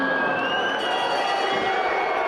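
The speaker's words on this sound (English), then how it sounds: "And the crowd willing him on here." Boxing crowd in a hall cheering on a fighter during the sixth and final round, a dense, steady roar of many voices filling the whole stretch.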